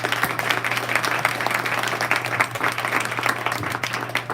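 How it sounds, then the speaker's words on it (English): An audience at an internship-to-hire panel event claps for the panelists, a dense, even round of applause from a modest crowd lasting about four seconds with a low hum underneath. "let's give our panelists a round of applause"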